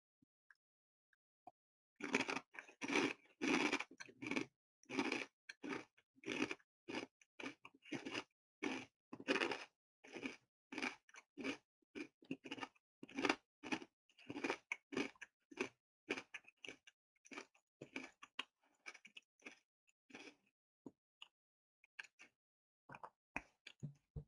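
Monjayaki senbei and takoyaki-flavored corn puffs being eaten up close: a long run of crisp, rhythmic crunching bites and chewing, fairly loud, with no talking.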